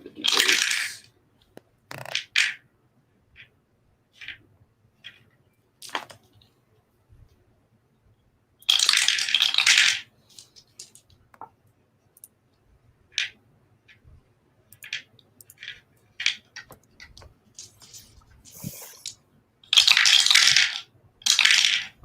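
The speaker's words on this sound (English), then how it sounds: "Sounds like a lot of dice." A large pile of polyhedral dice, d10s and d8s, rattles and clatters onto a table in repeated bursts of sharp clicks, with quiet gaps and a few scattered single taps between the rolls.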